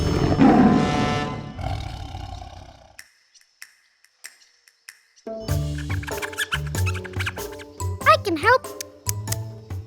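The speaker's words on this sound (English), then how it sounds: "But Lion roared louder." A lion roars in an animated English children's story about a little mouse helping a big lion, a loud rough roar lasting a few seconds, followed after a short silence by playful background music.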